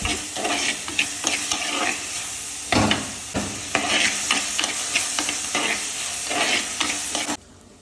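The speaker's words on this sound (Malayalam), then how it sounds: "ഇഞ്ചി വെളുത്തുള്ളി തക്കാളി സവാള പച്ചമുളക് എല്ലാം കൂടെ ഒന്ന് ഉപ്പിട്ടൊന്ന് വഴച്ചെടുക്കുക" Ginger, garlic, tomato, onion and green chilies sautéing with salt and fenugreek in a pan, loud close sizzling with repeated scraping strokes of a spatula stirring throughout, ending abruptly in near quiet.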